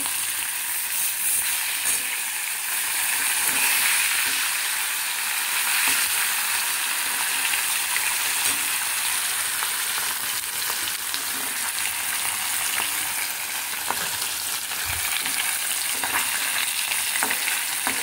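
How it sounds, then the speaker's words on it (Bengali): Catla fish pieces fry in a pan with a loud, continuous sizzle and occasional faint clicks, close up and without speech throughout. "প্রত্যেকটা মাছ আগে আমি ভালো করে একটু ভেজে নেব।"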